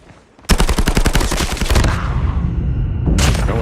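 Machine gun hip fire in Call of Duty Mobile bursts in suddenly as a rapid, loud run of shots, then gives way to heavy rumbling booms and a second loud burst near the end.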